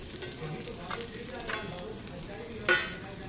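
Cooked rice being stirred into a frying pan with a little mashed mixture, giving faint scraping and soft sizzle with a few brief louder scrapes, the sharpest near the end; no voices.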